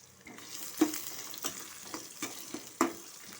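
Chopped onions sautéing in hot oil for a mango and drumstick sambar, a soft steady sizzle broken by several sharp stirring scrapes, close and fairly quiet.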